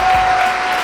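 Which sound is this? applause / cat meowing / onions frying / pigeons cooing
applause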